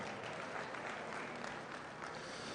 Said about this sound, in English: give these exhibitors one more big round of applause